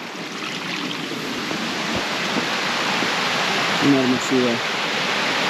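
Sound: waterfall cascading into a small canyon lake

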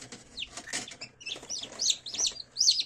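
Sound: newly hatched chicks chirping

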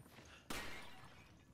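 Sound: pots smashing in the video game Resident Evil 5

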